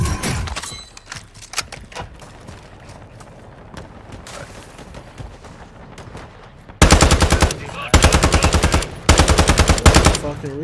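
Machine gun fire in a video game: scattered shots and clatter at first, then three loud sustained bursts of rapid automatic fire close to the listener.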